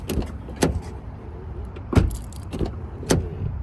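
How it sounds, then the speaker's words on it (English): A pickup truck handled by hand: a few sharp transient knocks and clunks spaced about a second apart, like a door opening and slamming shut and the engine briefly switched on and off, close by with no talking. "I just would turn on the car, turn it off, open the door, shut the door."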